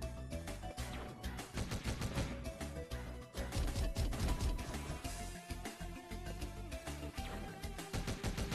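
Enemy gunfire in the action platformer Omega Strike, quick repeated shots and bursts firing in dense rhythmic volleys over game music, loud and continuous throughout with no speech.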